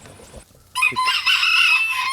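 Close by, a rooster lets out one loud, drawn-out crow after a brief quiet moment, standing alone with no talk.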